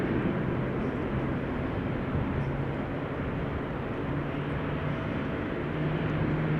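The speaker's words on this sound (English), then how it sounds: "we can hear GE90s being started" GE90 engines on Boeing 777s starting up at Amsterdam Schiphol Airport, a steady low distant turbine roar with a faint rising hum, unchanging throughout and free of talk.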